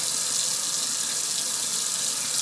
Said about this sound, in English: I'm just going to run some hot water